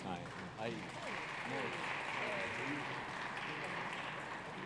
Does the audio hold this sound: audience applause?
yes